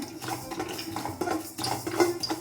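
Poppy seeds being roasted and stirred in a pan over a low flame, with light scraping and clinking of a spoon against metal in irregular strokes, close and fairly quiet.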